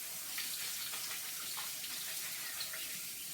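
Tap water pours over canned green lentils in a colander, a continuous close hiss of running and splashing water at an even level with no talking.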